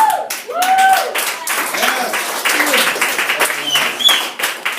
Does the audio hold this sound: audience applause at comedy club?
yes